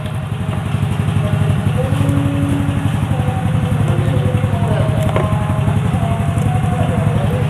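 A Honda Vario scooter engine idling with the negative battery cable disconnected: a steady, close putter with rapid even firing pulses and a light mechanical clatter, constant in level throughout, no talk.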